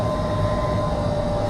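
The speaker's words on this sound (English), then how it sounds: "So I've managed to make it onto a tram." Steady rumbling interior noise while riding a tram in Vitoria-Gasteiz, a continuous low drone with a faint tonal whine, loud and unbroken, with no talking.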